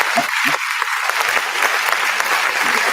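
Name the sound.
audience applause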